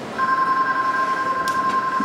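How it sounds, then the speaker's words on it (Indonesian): A telephone ringing in a dramatized scene, a steady electronic two-tone ring sounding continuously and fairly loud, alone without voices. "Telepon berdering."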